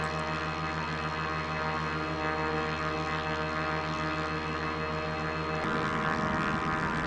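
Astro One personal aircraft hovering in place with throttle engaged, a steady multi-rotor propeller hum with layered tonal whine, shifting in pitch near the end.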